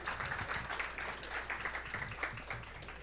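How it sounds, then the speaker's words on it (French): An audience at a quantum science celebration applauds its sponsors, a moderately quiet wash of many hands clapping with some individual claps standing out, continuous and unbroken throughout. "Est-ce qu'on peut les applaudir?"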